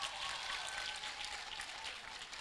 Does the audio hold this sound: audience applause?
yes